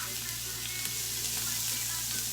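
Onions fry in a hot pan with a steady, close sizzle and a bright hiss that holds constant throughout.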